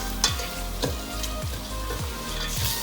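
Sprouted masoor lentils sautéing with spices in a pan, a steady sizzle broken by regular spatula scrapes and stirs, about one every half second, close and fairly loud with no voices.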